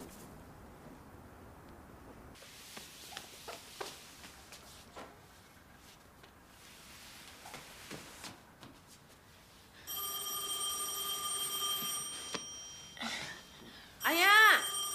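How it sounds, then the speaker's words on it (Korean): A telephone rings in a home setting, the ringing starting partway through with a sustained bell tone and repeating shortly after, following quieter knocks and movement earlier on, fairly close and clear. "아 전화 좀 받아봐."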